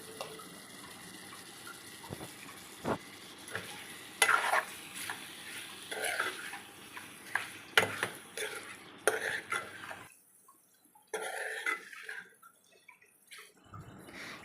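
Salted chicken curry being stirred in a pan, with repeated close scraping and clattering strokes over a low sizzle and a short quiet pause near the end.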